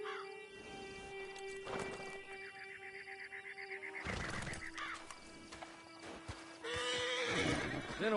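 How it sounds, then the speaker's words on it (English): A horse in the game Red Dead Redemption 2 whinnies and snorts repeatedly, with clopping hooves and rustling between the calls, close and fairly loud. "Been a while since you rode a horse."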